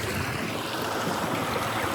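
Kayak on open water driven by an NK300 electric trolling motor at full throttle, a steady broadband rush of water and hull wash with wind noise, continuous and fairly close, no voices.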